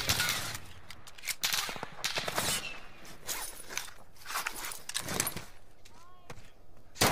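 Gunfire rattles in Call of Duty Warzone on the Verdansk map, with repeated sharp bursts and shots coming in irregular clusters, some close and loud, mixed with movement noise.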